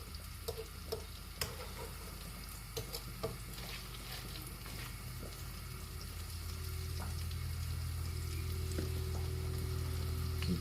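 Woodpigeon breasts fry in a pan with a soft, steady sizzle and occasional small pops and scrapes, and a low simmering rumble grows louder toward the end.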